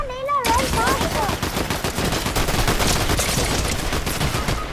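Rapid bursts of video game gunfire crackle loudly and nonstop through a hectic firefight, after a brief whistling tone at the start.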